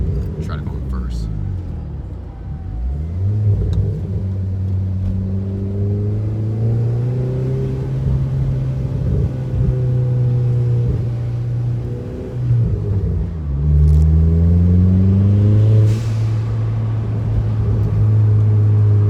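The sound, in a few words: Chevrolet Cobalt SS car engine revving with ZZP exhaust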